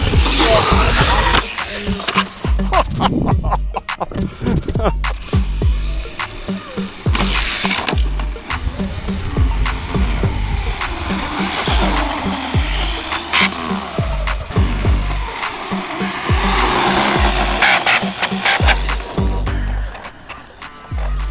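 A Hosim X25 1:8 scale RC truck runs at speed on pavement near a curb ramp, its electric motor whining loudly with rattling chassis clatter and sharp impact knocks throughout.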